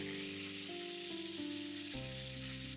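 Chicken fries in a generous layer of oil in a pan, giving a continuous, even hiss of sizzling, moderately quiet and close, with no voices and low tonal hum underneath.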